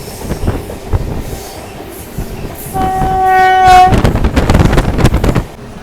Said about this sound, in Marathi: अशा प्रकारे हा लोको आता या ठिकाणून काढण्यात येणार आहे